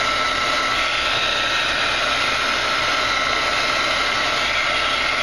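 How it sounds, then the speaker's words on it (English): A heat gun blows steadily at close range while drying a craft embellishment on thin paper, a loud, continuous broadband whoosh with no pauses or talking. "I'm just going to zap it with my heat gun"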